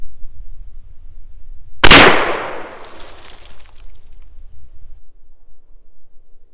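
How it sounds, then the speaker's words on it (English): A single loud shot from a Marlin 336 Cowboy lever-action rifle in 38-55 fired at a target from 50 feet at a range: one sharp crack that rings and decays over a couple of seconds, followed by quiet. "I definitely zapped that tack with the very first shot"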